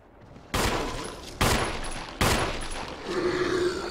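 Three loud, sharp gunshots from a zombie survival video game ring out roughly a second apart, each ending in a short decaying tail, with no talking over them.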